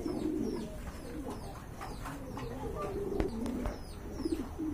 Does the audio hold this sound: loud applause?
no